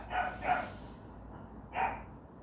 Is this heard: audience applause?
no